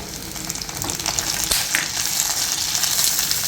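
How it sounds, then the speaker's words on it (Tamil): Red and green chillies with curry leaves sauté in a pan for a traditional Chettinad dish, giving a steady close sizzle and crackle with one sharp tap midway and no talking. "வதக்கிட்டு வரமிளகா பச்சை மிளகா கொஞ்சம் வதங்கினோன்னே இதோட கொஞ்சம் கருவேப்பிலை."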